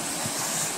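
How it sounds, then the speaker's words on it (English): River water flows near an abandoned mine, a brief, steady rushing wash heard close and alone. "here's the river."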